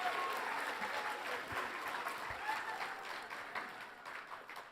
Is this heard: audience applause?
yes